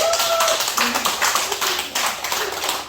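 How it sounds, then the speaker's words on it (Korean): A group claps their hands together in a church setting. The claps are dense and loud, with brief audible tones at times. "이렇게 손바닥으로 박수를 칠 수도 있고요."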